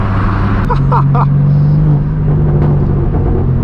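Straight-piped BMW M4 G82 with a full titanium exhaust, a loud low rumble with a droning tone holding across the clip, a few brief higher chirps early on.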